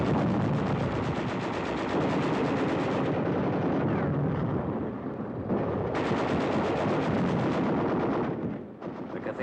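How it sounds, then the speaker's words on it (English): Dense wartime machine gun fire with occasional artillery shells as tanks and infantry advance on a besieged city, a continuous loud crackling barrage with brief lulls and bursts, heard alone. "There is some machine gun fire and occasional shells, but little concerted resistance."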